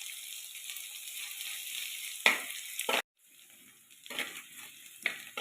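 Green chillies, curry leaves and fennel seeds sautéing in a hot pan, a crackling close sizzle broken by a few sharp stirring scrapes, then a brief silence and quieter frying with more scrapes.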